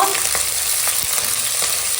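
Onion greens and tomato fry in a pan with chilli and onion, giving a dense, steady sizzle with a few soft stirring scrapes, loud and close.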